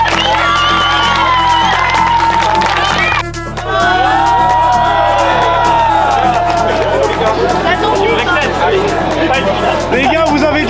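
A crowd cheering and whooping for Adrien at a celebration, loud and sustained with shouting voices and excited chatter, briefly dipping before surging again.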